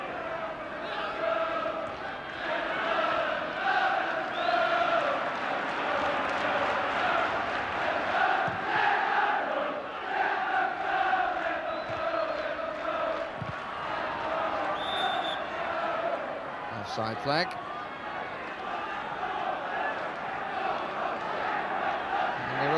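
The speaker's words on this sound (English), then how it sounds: "And a really good crowd for the afternoon out at Vicarage Road." Football crowd of nearly 17,000 at Vicarage Road for a 1986 Division One match, Watford against Liverpool: a steady, broad murmur with swelling shouts and cheers, heard under a commentator's voice.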